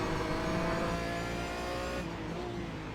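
An Aston Martin race car lapping Spa in the iRacing video game, a loud sustained engine drone with steady revving that shifts pitch and eases slightly near the end, no talk.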